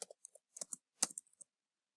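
Someone types a terminal command on a computer keyboard, a quick run of about a dozen crisp, close key clicks in irregular bursts, then quiet.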